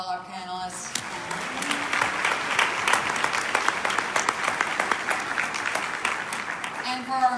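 A crowd claps for panelists at a public forum on safe and fair release, giving a full, even round of applause that swells and holds for several seconds; a voice is heard briefly at the start and again at the end.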